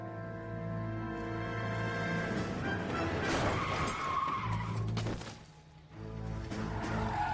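Tires screech in the L.A. Noire video game as a car skids hard, a long loud squeal over engine rumble that dips briefly near the end before resuming.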